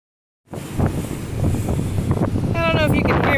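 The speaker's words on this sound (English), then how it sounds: "It is so incredibly windy, we're not allowed to go very deep." Strong wind buffets a microphone on a beach in Mexico, a constant loud rushing roar starting abruptly and continuing steadily, with a voice briefly audible near the end.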